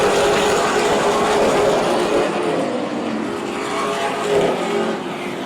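Super late model race cars roar around an oval track at Oyster Bed in a loud, continuous engine drone that swells and fades slightly as the pack passes.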